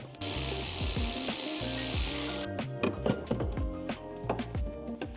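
A power tool whirs loudly in a short burst on car strut top nuts during a WRX coilover swap, followed by clanks and rattles of metal parts and tools being handled close by.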